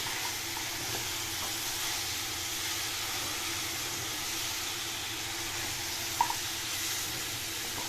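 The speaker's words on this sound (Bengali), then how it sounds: "মাটন দিয়ে অল্প একটু নাড়াচাড়া করব, যাতে অল্প হালকা একটু মাটনটা ফ্রাই হয়ে যায়।" Mutton stirring and frying in a pot, a steady soft sizzle and hiss running throughout with faint scraping of stirring and one brief clink near the end.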